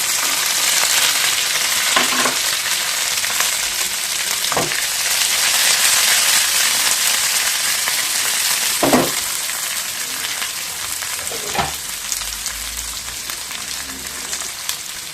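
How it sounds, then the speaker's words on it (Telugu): Curry leaves, green chillies and onions fry in hot oil for tomato rice, giving a loud, continuous sizzle with a few scraping stirs of a spoon in the pan. "బాగా వేయించుకోండి."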